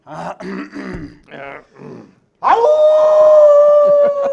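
A high school principal imitates a timberwolf howl. A strong, sustained, wavering vocal howl comes in close and loud right after a few short spoken phrases.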